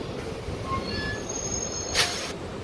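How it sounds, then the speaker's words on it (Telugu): A DEMU local train slows to a stop at a red signal, its wheels squealing in thin high tones over a low rolling rumble, followed by a brief sharp hiss near the end. "అబ్బా మళ్ళీ ట్రైన్ ఆపేసిండు"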